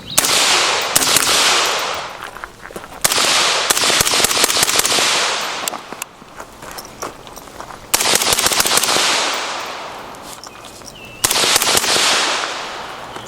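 Several sharp shots from a 5.56 rifle with an Energetic Arms Ferox suppressor, fired one after another at intervals, each a loud crack with a short tail, nearby outdoors.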